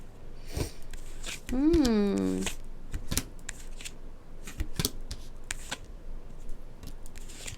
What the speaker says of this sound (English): Okay, I'll lay the cards out.